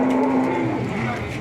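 Brahman and Limousin bulls moo in a long, loud, steady bellow that fades slightly toward the end, close by with no talking over it.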